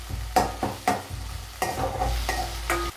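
Tomatoes frying in a pan for Tamil sambar, with a spatula scraping and stirring in several distinct strokes over a steady low sizzle, close and moderately loud.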